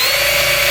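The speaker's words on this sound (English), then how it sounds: "this is like an epoxy mixer, but it just hooks onto the drill" A power drill fitted with an epoxy mixer attachment whirs at a loud, steady pitch, running continuously and close by for the whole short burst.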